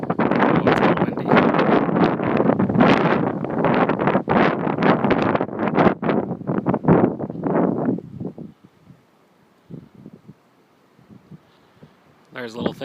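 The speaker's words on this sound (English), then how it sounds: "Oh, it's a little windy." Wind buffeting the microphone atop McAfee Knob mountain peak, loud gusty rumbling for about eight seconds, then dropping away to quiet with brief faint sounds.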